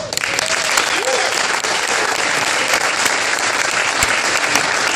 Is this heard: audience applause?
yes